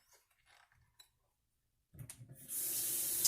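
A sink tap splashes as running water rinses a spoon in a kitchen while making Korean beef. The water starts abruptly partway through and runs loud and steady to the end, after a few faint clinks.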